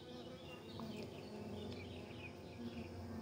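A steady, continuous droning hum of honey bees fanning at the hive, even and fairly quiet throughout.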